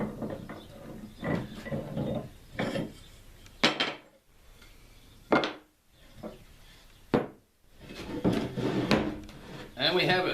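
Wooden clamps knocking and scraping as they come off a glued-up cutting board made from leftover wood scraps, a series of close, sharp clunks and rattles with quieter sliding and rubbing sounds between them.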